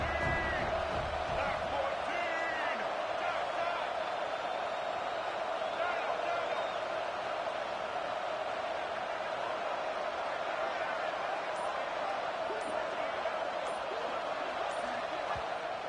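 A college football stadium crowd in a video game fills the air with a steady, dense roar of cheering and chanting that holds without a break from start to finish.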